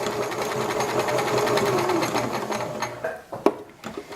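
A sewing machine stitches a seam sample with a straight stitch, running steadily and loudly for about three seconds before stopping. A few isolated clicks and knocks follow, likely from the machine or from handling the fabric.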